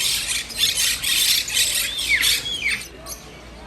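Pet birds in a bird store let out a rapid run of shrill squawks and squeals while playing together, loud and close, with quieter moments toward the end.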